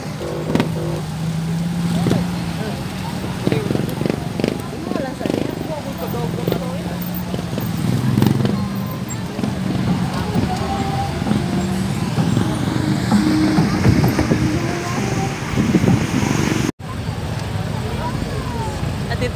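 Cars gather near SM Seaside in Cebu ahead of Sinulog fireworks: a steady rumble of engines and road noise with vehicles passing close by, under nearly constant talking.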